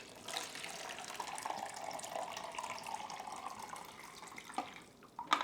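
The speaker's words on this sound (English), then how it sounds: "Pouring out on the Patterson tank in 3, 2, 1, go." Liquid pouring steadily out of a Patterson film developing tank, a close, fairly quiet splashing stream that runs for several seconds before ending with a few drips and a clatter.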